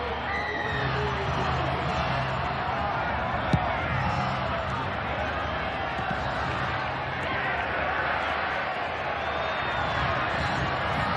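Broad, steady murmur and roar of a rugby league stadium crowd at a 1993 Brisbane versus Norths match, constant and distant with commentators talking over it.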